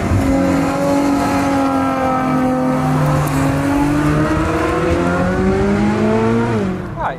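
Ferrari 458 Speciale Aperta V8 accelerating on the road, a loud continuous engine note rising steadily in pitch through the gears for several seconds, close and dominant with no talking.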